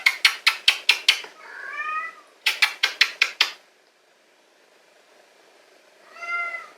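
A cat meows close by in repeated drawn-out calls, interspersed with sharp rhythmic clicking bursts like typing or tapping, then a quiet pause before one final meow.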